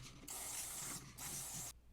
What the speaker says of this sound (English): now I'm just going to spray a little more neutral control cleaner over the jacks